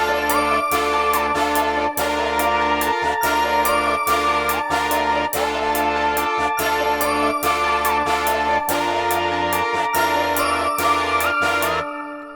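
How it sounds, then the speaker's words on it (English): A plug bell synth preset from the Trapology bank for Zenology plays a bright repeating melodic pattern over a trap beat with steady kick and hi-hat pulses, loud and continuous before cutting off at the end. "I think I'm gonna go with the plug bell out of the Trapology by Pull Up Boy Shawty and Shine on the track"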